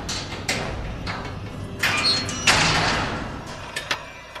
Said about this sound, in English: White, close the door and lock it.